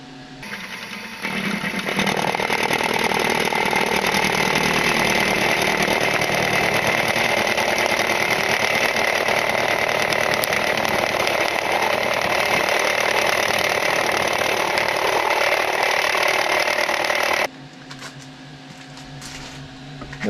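Milling machine taking a hand-fed 100-thousandths cut in metal with a Chinese face mill: a loud, continuous grinding whir with a high whine, running steadily for about seventeen seconds before dropping to a quieter motor hum.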